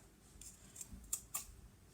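Scissors trimming the seam allowance of a sewn fabric mini wallet: a few quiet, crisp snips spaced apart over a faint room background, with no talking.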